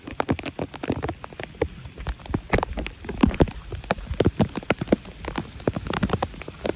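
Heavy rain pours down over open fields in a steady, dense patter of drops with no voices, part of a long spell of heavy rain with strong wind.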